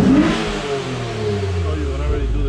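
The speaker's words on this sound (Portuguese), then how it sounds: "Olha o barulho do carro" A tuned car engine revs up and then holds a steady rising drone after the throttle is opened, loud and close throughout.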